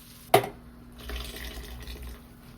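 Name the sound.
pouring boiled water into rice pot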